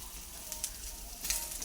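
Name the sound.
folui (falli) fish frying in oil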